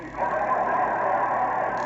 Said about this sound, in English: Oh, what was that? A horse?